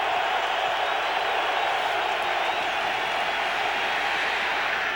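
Stadium crowd at a Rams NFL football game, a dense, continuous roar of thousands of fans that stays steady and loud throughout, heard alone without commentary over it.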